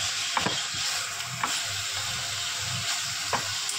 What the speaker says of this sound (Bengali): এটাকে নাড়িয়ে কষিয়ে এটা শুকনো করতে হবে।